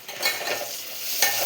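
Garam masala goes into food frying in a pan while it is stirred, giving a steady close sizzle with scraping stir strokes throughout and no talking.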